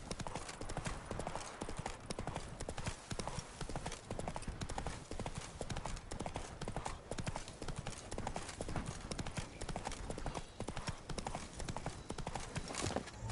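Horse hooves clip-clop continuously at a steady riding pace in the video game The Witcher 3, a dense, even rhythm of clops heard throughout.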